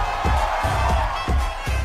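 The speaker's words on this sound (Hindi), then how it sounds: "जोरदार तालियां लाइए सर" A comedy show audience applauds and cheers for the stage, a dense, loud wall of crowd noise with a steady pulse of rhythmic clapping running through it.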